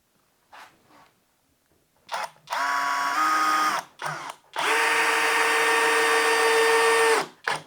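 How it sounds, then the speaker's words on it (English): A Saker 20V brushless drill with a Phillips bit drives a number 8 construction screw: a couple of short blips, then a whining run, a pause, and a longer steady run before it stops, up close. "we're going to try inserting this number 8 construction screw"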